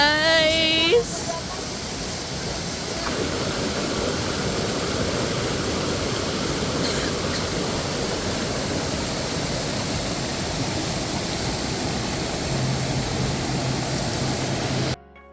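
River water rushes steadily beside a glamping site in Puncak, Bogor, a broad continuous wash of flow throughout, with a brief voice and whistle-like sound at the very start.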